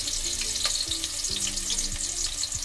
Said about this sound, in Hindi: इसके बाद हम डालेंगे 2 medium size के चॉप किए हुए ऑनियन